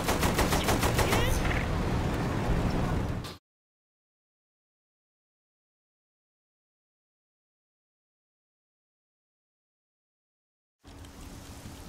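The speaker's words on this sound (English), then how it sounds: "Use the machine gun then, not the cannon." Rapid machine gun fire in the game Saints Row: The Third, a dense, loud burst of rattling shots lasting about three seconds, then abrupt silence before other game sounds resume.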